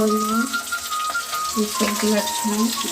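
Food frying in a pan in a home kitchen, a steady close sizzle running throughout with a voice talking over it.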